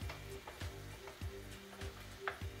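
A pot of potatoes simmers on medium-low heat, giving a steady soft sizzle that is broken every half second or so by short stirring knocks.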